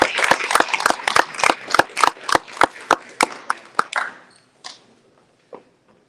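Audience clapping at a press conference, a burst of sharp claps that builds briefly, then thins out and fades to a few scattered final claps.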